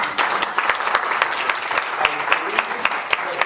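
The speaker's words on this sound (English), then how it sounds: "a big round of applause to the National Guild of Hypnotists" Audience at the 2012 National Guild of Hypnotists convention applauding, a steady wash of hands with sharp individual claps standing out, loud and sustained throughout.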